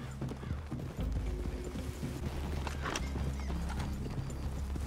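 Horse hooves clip-clop steadily in Red Dead Redemption 2, several horses walking close by on a forest trail with an occasional snort, a continuous rhythmic clatter over low outdoor ambience.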